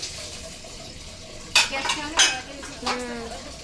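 Dishes, pots and cutlery being washed in a home kitchen, with a few clattering clinks and scrapes rising over a quiet background of running water and faint voices.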